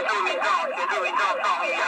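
A police car siren wails loudly and steadily, rising and falling in repeated sweeps as it escorts an unconscious man to the hospital on a busy holiday road, with no voices.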